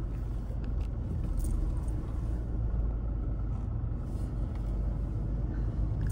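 Steady low rumble of idling and creeping cars stuck in a heavy traffic jam at Dighode, Uran, a dense continuous road drone with no voices.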